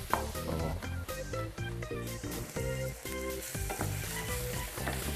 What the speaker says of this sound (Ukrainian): Наріжемо і посмажимо ковбаски.